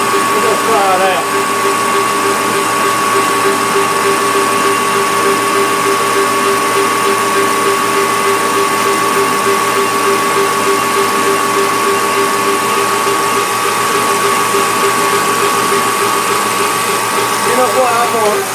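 A lathe taking light, slow cuts on a part for a fly cutter, a steady whining motor hum with a sustained tonal ring that runs unbroken and loud throughout.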